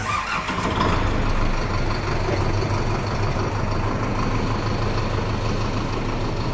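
A Sonalika Tiger DI 65 4WD 2024 CRDi tractor diesel engine idles just after a self-start, a steady, close, low rumbling throb that holds an even level throughout, with no talking.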